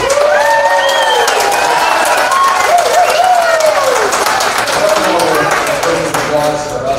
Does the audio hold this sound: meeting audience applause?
yes